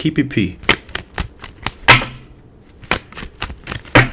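Tarot cards being shuffled by hand in short crisp riffling bursts, close and fairly loud, under quiet talk between the shuffles.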